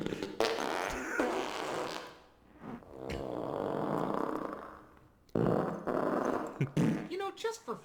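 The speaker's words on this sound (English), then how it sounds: "Burp and fart jokes." Loud, drawn-out flatulence sound effects from the 2002 Scooby-Doo film, several long rasping blasts with short gaps, close and prominent, with voices mixed in.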